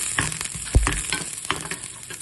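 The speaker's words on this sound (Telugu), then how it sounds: "ఇప్పుడు దీంట్లో తెల్లగడ్డలు, అల్లం, వేసి వేయించుకుందాము." Garlic and ginger frying in hot oil in a pan for a bitter gourd masala curry, a soft continuous sizzle with a few light clinks of stirring, close and without talk.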